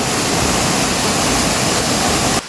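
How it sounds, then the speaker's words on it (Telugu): Kusaloya waterfall, a large fall with water dropping from a great height, gives a loud, unbroken roar of rushing water that cuts off abruptly at the end. "ఈ వాటర్ ఫాలే చాలా పెద్దదన్నమాట. ఎక్కువ రేంజ్ నుంచి దూకుతున్నాయి వాటర్"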